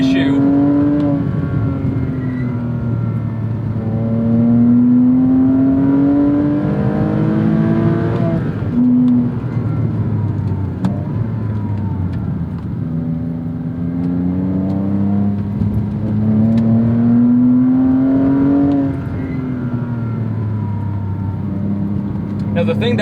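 A Porsche Cayman S 987 engine drives uphill, heard from inside the cabin as a loud, steady drone that rises and falls with gear changes and revs throughout, with someone talking over it.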